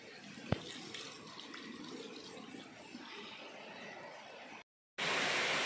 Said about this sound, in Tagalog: Yan, medyo mahina yung agos niya.